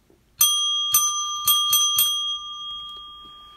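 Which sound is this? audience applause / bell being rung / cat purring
bell being rung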